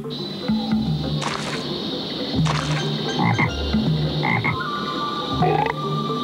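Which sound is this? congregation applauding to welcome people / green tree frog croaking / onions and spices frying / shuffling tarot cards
green tree frog croaking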